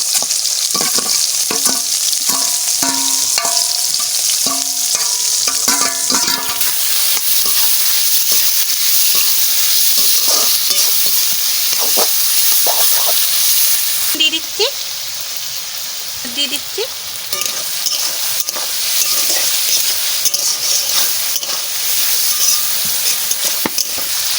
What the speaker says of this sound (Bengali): তেল গরম হয়ে গেছে এবার এক এক করে দিয়ে দিচ্ছি প্রথমে পেঁয়াজ দিয়ে দিচ্ছি পেঁয়াজ আলু একসাথে সব ক্যাপসিকাম